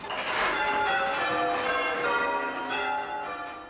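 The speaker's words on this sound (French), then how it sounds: "Le change ringing, c'est cette méthode typiquement britannique de sonner les cloches." Change ringing on the bells of the Anglican cathedral of Quebec, overlapping peals struck in rapid succession with a dense, resonant wash of tones, loud and sustained throughout.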